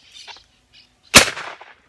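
A single sharp shotgun blast fired at a flying bird during wingshooting, loud and close, preceded by faint rustling and followed by a short fading echo.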